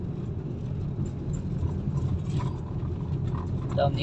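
A car engine holds a steady low drone in second gear while rolling downhill, revving somewhat high but even and continuous throughout, with a voice speaking faintly over it.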